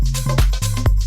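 Deep tech house sub bass synth rich in high harmonics, plucky notes with downward pitch sweeps repeating in a quick groove, loud and dry with no voices.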